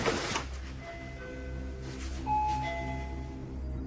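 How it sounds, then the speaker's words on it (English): Faint doorbell chimes ringing indoors, a few soft tonal dings repeating over a low background hum, with no voices. "The doorbell suddenly rings"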